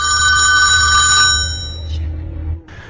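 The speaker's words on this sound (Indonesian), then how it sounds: "telepon ibunya pun berdering dan si Charlie langsung menutup teleponnya" A telephone rings loudly with a sustained electronic bell tone for about two seconds during a film scene, then cuts off, with low rumbling room sound underneath.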